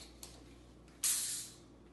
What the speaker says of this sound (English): A little bit of club soda.